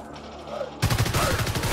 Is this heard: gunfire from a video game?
yes